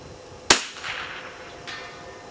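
A single sharp rifle shot cracks at a 200-yard target range, close and loud, followed by a rolling echo and a faint second report from the distance.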